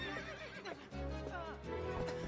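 Horse whinnying in The Legend of Zelda: Twilight Princess HD during a wild-horse taming minigame, a loud drawn-out neigh with shifting pitch set over game music and rumbling effects.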